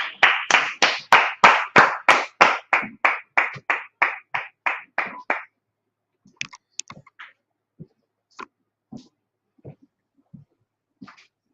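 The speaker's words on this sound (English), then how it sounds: "Clap it up." An audience at an indoor religious group class claps in unison, a loud, rhythmic burst of about twenty claps, followed by a few scattered, fading claps and small noises.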